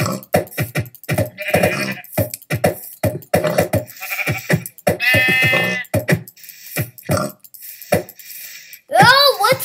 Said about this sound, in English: Ooh, that's an awful lot of sheep.